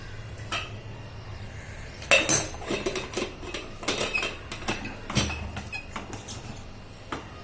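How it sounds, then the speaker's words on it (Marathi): A pressure cooker lid is handled and fitted in a home kitchen, giving a few sharp metallic clanks and clinks with scattered rattles and pauses between them, close and fairly clear. "आता झाकण लावून द्यायचं आहे आपल्याला त्या कुकरचं"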